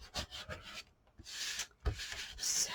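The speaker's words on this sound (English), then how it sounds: "I am just really burnishing this paper down" Paper being burnished down by hand for a spring-flower mini album, heard as close, dry rubbing strokes in several uneven bursts with short pauses between them.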